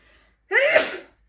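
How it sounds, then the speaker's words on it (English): One loud, close sneeze erupts from near silence and quickly fades. "oh, I'm gonna sneeze"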